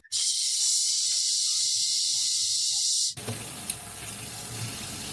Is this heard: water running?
yes